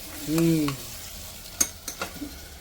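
Masala fries in oil in a pan while being stirred, with a faint sizzle and a few sharp spoon scrapes and clicks after a short humming tone at the start.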